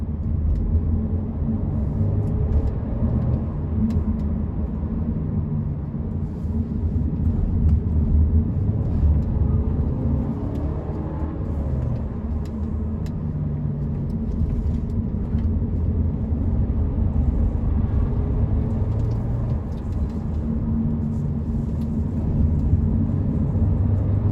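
A 2022 Audi A5 Sportback 40 TFSI quattro is driven with ESC partly off, heard from inside as a steady low road and engine rumble that stays even and moderately quiet throughout, with no talking.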